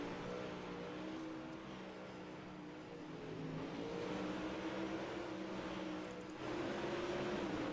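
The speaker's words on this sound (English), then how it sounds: "rolling around the speedway, making a couple of hot laps, getting that set up right on the Bam Bam machine out there in the car number 29" A sprint car, number 29, running hot laps around a speedway, its engine a continuous droning roar held at a steady distance with slight swells in pitch.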